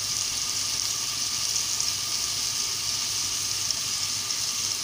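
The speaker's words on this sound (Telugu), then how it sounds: "ఆనియన్స్ 1 నిమిషం పాటు వేగాలండి." Onions sizzle and fry in a pan as a steady, bright hiss of oil that continues without pause and without talk.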